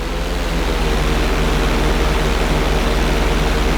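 Steady, loud plane engine drone in GTA 5 during an inside loop at flight school, a continuous low roar with a faint pulsing texture and no talk.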